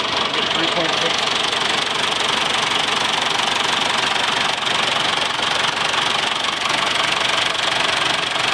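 A Case IH 1085 tractor engine runs steadily and loudly throughout, with a continuous dense rumble that stays constant and close.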